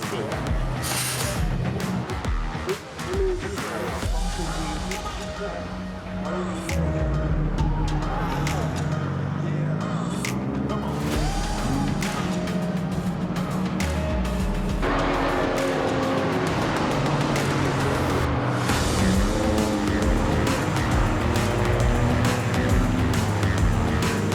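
Race car engines roar continuously through Nürburgring 24 Hours qualifying, loud and sustained with shifting pitch as cars pass, tires occasionally squealing, and voices talking faintly underneath.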